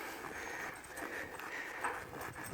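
A mare walking on a training ground, her hooves giving a soft, steady clip-clop close by over low background noise.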